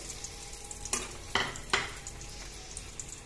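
Eggs frying in hot oil in a pan for egg curry, a steady soft sizzle broken by three sharp clatters of a utensil against the pan, close up, with no talking.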